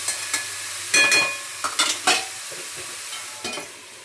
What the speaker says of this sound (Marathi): झाकण ठेवून 2-2 मिनिटाला पटापट हलवून वाफेवरच परतून घ्यायचे